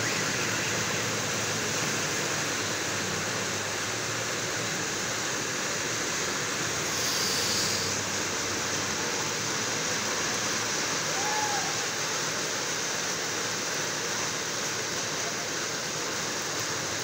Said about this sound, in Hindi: बहुत ही तेज़ किस्म की बारिश हो रही है।